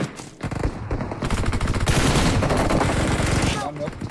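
Rapid automatic gunfire in PUBG Mobile, loud sustained bursts of shots with dense echoing reports, briefly pausing before a long continuous volley, with voices faintly underneath.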